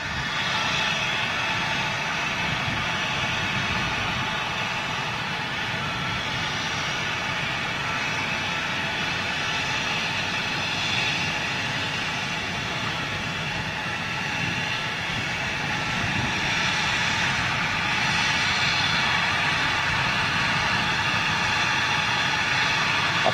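Steady, continuous roar of a jet airliner engine at London City airport, a broad sustained rumble and whine holding at an even level throughout with no voices.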